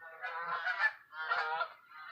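Geese flying south in echelon formation give two loud, close bursts of overlapping honks, then a softer third call trailing off, with quiet gaps between and no voices.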